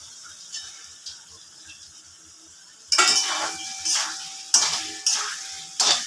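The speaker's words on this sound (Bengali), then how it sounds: "এবার আমি আলুটা দিয়ে দিচ্ছি।" Potatoes tipped into a pan of frying garlic, dry chilli powder, cumin powder, salt and turmeric, cooked for a spicy shankor fish curry, then stirred with a spoon, giving several loud clinking scrapes against the pan over a faint sizzle.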